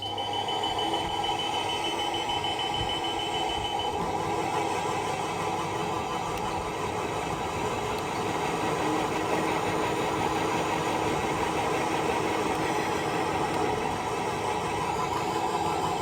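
A CM 2400 insulation blowing machine runs with both blowers and material feed on, giving a loud, steady mechanical roar with a constant hum and whine and no pauses.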